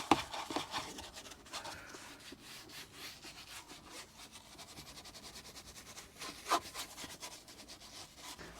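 A brush rubs and scrubs foaming interior cleaner into the inside of a 2007 Subaru WRX in quiet, repeated strokes, with a couple of sharper scuffs standing out near the start and later.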